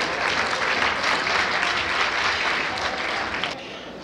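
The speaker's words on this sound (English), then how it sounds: "So big round of applause for Gubni and the cause that's why we are here." Audience applause at a women achievers awards event in Canada, a dense, loud burst of many hands clapping that holds steady and then eases slightly near the end, with no talk over it.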